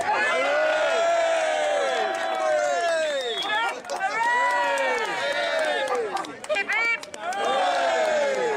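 Outdoor crowd cheering and whooping for the police at a gathering in Birkenhead, with several voices shouting over one another in loud rising bursts and some scattered clapping.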